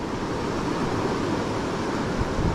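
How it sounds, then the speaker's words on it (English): Whitewater rushes at the base of a river waterfall, a dense, steady roar of churning water heard up close and loud without pause. "right at the base of that waterfall. Whitewater."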